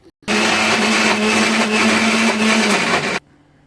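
A mixer grinder whirs loudly and steadily for about three seconds, grinding a batter of green gram and green chilli, then cuts off abruptly into quiet.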